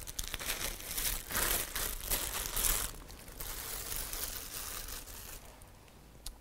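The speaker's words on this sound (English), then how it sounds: "I will remember about the plastic bag for my dustbins." A plastic bin bag for hotel room dustbins crinkles and rustles up close, with loud bursts of crumpling that ease into softer continuous handling, no voices.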